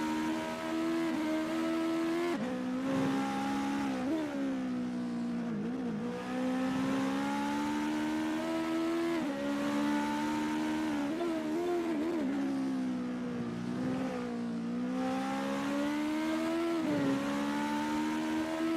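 A US Legend race car in a racing video game at the Ahvenisto circuit, its engine droning steadily with harmonic pitch rising and dipping through gear changes and corners, continuous and alone with no talk.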